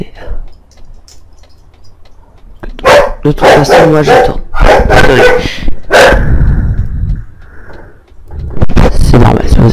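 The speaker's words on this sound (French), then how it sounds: "Si vous entendez les waf waf, c'est tout à fait normal." A dog barks several times in sharp, loud bursts close by, mixed in with someone talking in French over a quieter background.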